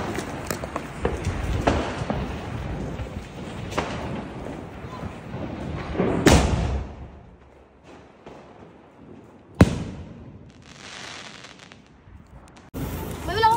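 Diwali fireworks shots lit and going off, a run of sharp booming bursts and crackles followed by quieter gaps, with one louder bang near the end and people talking and shouting around them outdoors.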